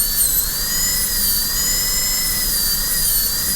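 High-speed dental drill burr cutting a maxillary canine tooth for a porcelain-fused-to-metal crown, a steady close whine with a high pitched tone that wavers slightly over a continuous hiss, alone without talk.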